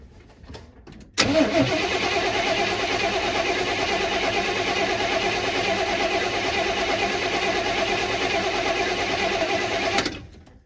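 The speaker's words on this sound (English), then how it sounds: "let's crank on it a little bit more and see if fuel shows up" A barn-find Chevrolet C10 truck's starter cranks the engine steadily for about nine seconds without it catching. The churning is loud, close and even, with no voices over it.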